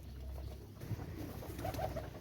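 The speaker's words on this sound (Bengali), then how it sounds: "প্রত্যেকটা কবুতর আপনারা দেখবেন ইনশাল্লাহ ভালো লাগবে আপনাদের।" Pigeons kept for flying coo softly in a quiet space, a few low throaty calls rising near the end over faint background hiss.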